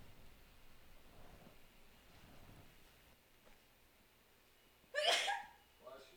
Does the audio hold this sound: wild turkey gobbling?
no